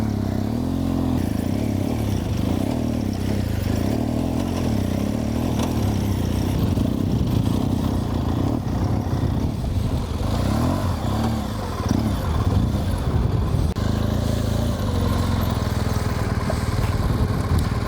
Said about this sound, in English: it almost sounded as though the bike was dying a couple of times